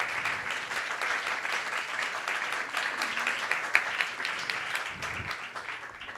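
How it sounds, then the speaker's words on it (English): An audience at a Vyasa Puja celebration for Vaisesika Dasa claps in warm, moderately loud applause that carries on evenly through the moment. "Let's give her a round of applause."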